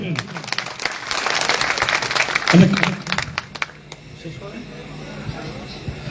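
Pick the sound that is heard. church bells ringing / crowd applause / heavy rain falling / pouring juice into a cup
crowd applause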